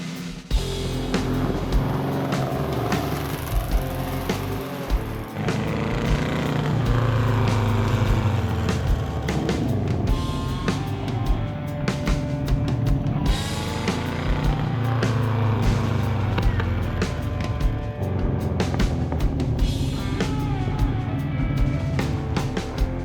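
A custom Volkswagen Beetle engine runs loud and close for the whole stretch, a steady throaty rumble with rising and falling revs and no talking over it.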